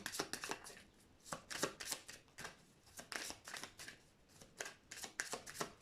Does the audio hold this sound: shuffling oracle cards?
yes